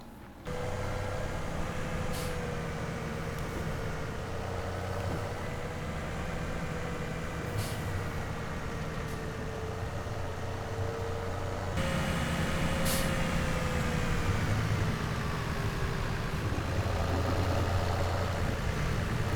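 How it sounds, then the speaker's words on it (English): A tractor engine in Farming Simulator 17 drones steadily with a sustained tonal hum that shifts pitch as it drives, rising slightly louder partway through, with brief hissing clicks and no talking. "we will jump out, get into the tractor"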